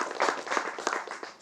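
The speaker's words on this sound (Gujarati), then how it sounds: "જોરદાર તાળીઓ ઉત્સવ માટે." Applause from a live stage audience welcoming a young film producer guest, a steady dense patter of many hands at moderate level, without talk over it.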